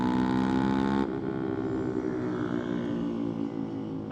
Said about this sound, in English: I love the way your bike sounds.